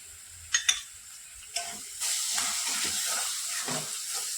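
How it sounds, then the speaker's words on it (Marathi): Chili paste with turmeric and salt sautés in a pan, a few sharp clinks of a utensil followed by a steady sizzling hiss as the mixture is stirred and fried up close. "आणि हे व्यवस्थित मिक्स करून घ्यायचं एक मिनिटासाठी आपल्याला हे छान परतवून घ्यायचं"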